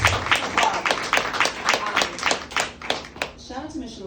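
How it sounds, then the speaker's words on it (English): An audience at a district 9 supervisor campaign event claps in a steady run of sharp claps that fades toward the end, with a voice speaking over the last part. "Yes, please feel free to applaud."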